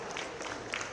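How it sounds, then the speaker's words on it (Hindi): Audience applause at the unveiling of a tribal festival logo in Dehradun, a brief continuous burst of clapping from a crowd at steady volume. "जोरदार तालियां बजती"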